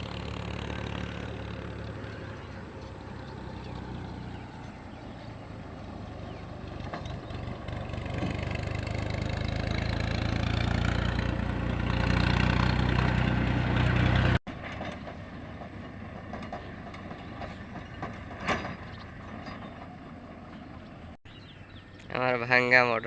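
A broken, aging motorcycle engine runs with a steady low rumble near the Jamuna river by the India border in Bangladesh, loud and continuous for the first part, then dropping and fading as a voice talks over it.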